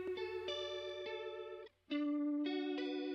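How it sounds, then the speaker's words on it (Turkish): A synth melody runs through an Arturia chorus effect set to a vibrato preset, sustained bright tones with a wavering shimmer, broken by a brief near-silent gap before the notes return. "Chorus'ta da vibrato presetini seçtim."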